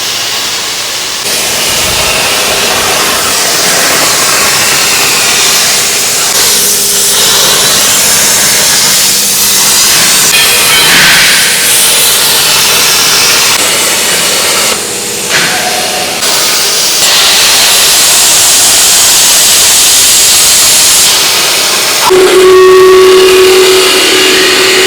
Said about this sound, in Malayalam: ഷീറ്റൊക്കെ ഉണ്ടല്ലോ, അതൊക്കെ നല്ല വേസ്റ്റേജ് ഇല്ലാതെ നല്ല അടിപൊളി കട്ട് ചെയ്യുന്ന ഓട്ടോമാറ്റിക് പ്ലാസ്മ കട്ടിംഗ് മെഷീൻ